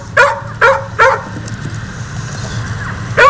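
Several hungry dogs bark in short, loud bursts, three quick barks close together, then a pause over low background rumble and a final bark at the end.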